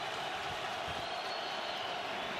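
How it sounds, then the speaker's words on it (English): Stadium crowd at an NFL game between the LA Rams and Cleveland Browns roars on a third down and 11, a dense, sustained wall of crowd noise that stays loud and steady throughout. "Crowd roaring on a third down and 11."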